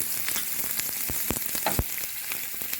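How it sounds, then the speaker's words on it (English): Onions, peppers and celery frying in olive oil in a hot skillet, a dense continuous sizzle with a few sharp pops and crackles, close and steady with no voices. "To a hot skillet, add a little bit of olive oil. Then do your holy trinity."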